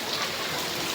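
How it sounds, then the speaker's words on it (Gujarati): Heavy rain in Mahuva with rainwater flowing into a house, heard as a steady, loud rushing and splashing of water that fills the whole second with no voices. "અમારે બહુ વરસાદ આવ્યો"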